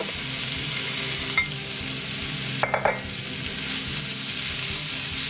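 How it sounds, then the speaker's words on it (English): Steady frying sizzle of jackfruit in a frying pan fills the clip, loud and continuous, with a few brief clinks of a utensil against the pan partway through. "now I'm going to add in my jackfruit. Oh yeah, hear that sizzle?"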